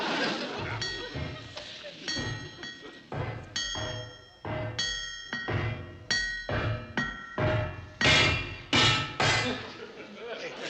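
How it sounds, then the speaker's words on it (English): Repeated sharp metallic clanks ring out in irregular bursts, bright and resonant like a hammer striking metal, with a busy low rumble underneath. "You keep on with the hammer and I'll add some extras."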